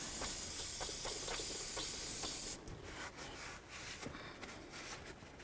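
Cleaner sprayed onto the front suspension area of a 2007-2017 Ford Expedition during a lower ball joint replacement: a steady loud hiss for about two and a half seconds, then softer rubbing and wiping noises.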